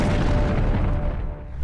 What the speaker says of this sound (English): drop an orbital barrage on top of the insectoids